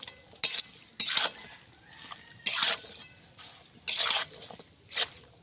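Mutton being stirred in a cooking pot for a spiced braise with turmeric, salt and oil, giving several distinct wet squelching, scraping strokes at irregular intervals, close and moderately loud with quiet gaps between them.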